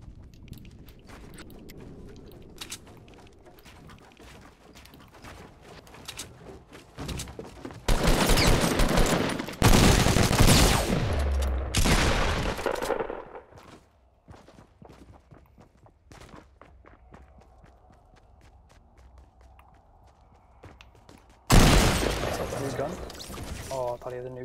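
Video game gunfire, scattered shots and loud sustained bursts of rapid fire mixed with footsteps and game sounds, some bursts close and heavy, others lighter, with a quieter stretch between them.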